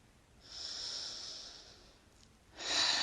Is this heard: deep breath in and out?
yes